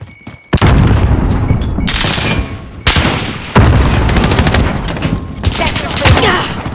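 Heavy booms and rattling gunfire in a Call of Duty Modern Warfare team deathmatch, with a grenade blast among them: several loud, close explosive bursts cut in and out over dense firing.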